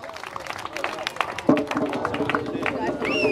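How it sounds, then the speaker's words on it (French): Audience applauding a kayak record holder at a race podium ceremony, brisk scattered clapping with crowd chatter and a voice speaking over it. "On l'applaudit bien fort"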